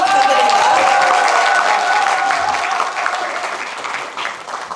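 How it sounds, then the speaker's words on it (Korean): At a public meeting with residents and city officials in Naseong-dong, Sejong, an audience gives loud, sustained applause that gradually tapers off toward the end, with some faint crowd murmur underneath. "박수 부탁드립니다."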